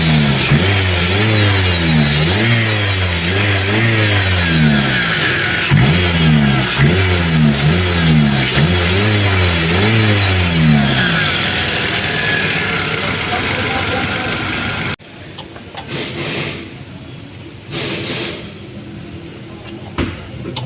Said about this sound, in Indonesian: Bunyi kasar saat mesin hidup dan semakin keras bunyinya saat putaran mesinnya juga semakin cepat.